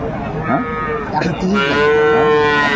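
A cow moos at the Aftabganj cattle market in Dinajpur, where dairy cows and calves are traded. It gives a loud, close, drawn-out low call over a background of market hubbub.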